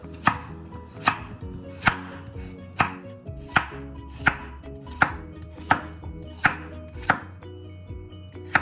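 A knife chops carrots steadily on a cutting board, about a dozen evenly spaced crisp thuds, close and clear with no talking.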